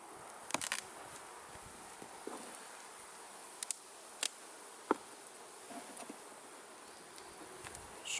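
Honeybees in an open hive with the lid off, making a faint, steady insect drone with a few brief louder buzzes as single bees pass close.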